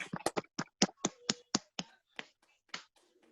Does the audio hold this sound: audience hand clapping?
yes